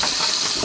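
Steady stream of kitchen tap water, about 3 mm wide, running continuously during dishwashing, a constant broadband hiss close by with no talk over it.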